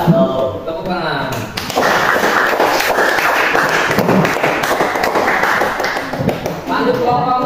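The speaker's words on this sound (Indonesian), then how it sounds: "Tepuk tangan." Classroom audience clapping together after a presentation, a brisk burst of many hands that starts after a short spoken lead-in, stays loud and dense for several seconds, then thins out near the end.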